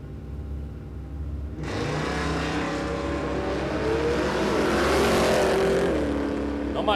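After a low idle rumble, a big block Chev Ute and a Mustang launch at a drag strip, the engines bursting into a loud, sustained roar that climbs steadily in pitch as both cars pull away.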